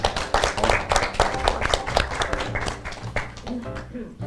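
Clapping from an audience honoring a newly elected president, Manuel Mariño, at a Spanish community gathering in Valparaíso, a close, uneven patter of hands that thins out toward the end, with voices mixed in.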